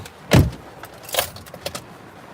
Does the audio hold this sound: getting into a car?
yes